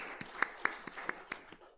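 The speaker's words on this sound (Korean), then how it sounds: "하나님께 찬양과 영광의 박수를 올려드리겠습니다" Faint, sparse hand claps from a congregation during a Korean Sunday church service, about eight sharp claps in a loose steady rhythm over roughly two seconds, with no talking.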